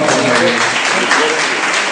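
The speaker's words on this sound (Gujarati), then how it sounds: "તાળીઓના ગણગણાટથી આપણે એમને વધાવીએ." Applause fills a school's annual prize distribution as an audience claps steadily and densely for a student placed third, a loud, continuous wash of clapping with no pauses.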